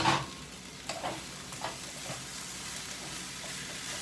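Bacon and potatoes frying in a pan over medium heat, a continuous hiss and crackle with a few brief spatters and scrapes near the start.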